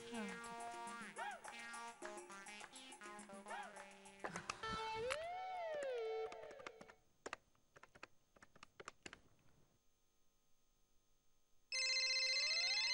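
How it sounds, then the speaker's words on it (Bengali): A telephone rings in a domestic drama scene, its electronic ringing tone cutting in and out among musical tones and clicks, then returning loud and steady at the end. "ফোন বাজছে, বিয়ে বাড়ি থেকে নিশ্চয়ই আমাদের ফোন করেছে।"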